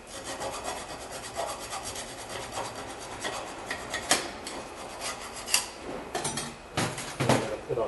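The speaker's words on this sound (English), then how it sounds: "We're just going to file it down just so we have all that rust out of there." A hand file rasps rust off a brake caliper bracket on a 2008 Nissan Altima during a brake job, with repeated close scraping strokes and sharper metallic scrapes near the end.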